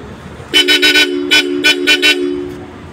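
A Bosch Europa horn fitted to a 2024-25 Honda BR-V sounds in a burst of short toots, two groups of quick honks with a brief pause between, loud and close outdoors.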